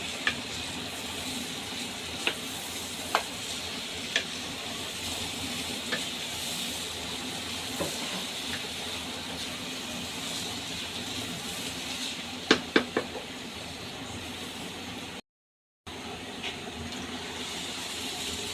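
Rice fries in a pan with chicken for khichuri, a soft steady sizzle broken by occasional sharp clicks of a spoon stirring against the pan.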